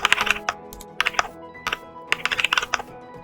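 Keys tapped on a computer keyboard while entering AutoCAD commands: quick bursts of crisp clicks separated by short pauses, close and clear, with no voices.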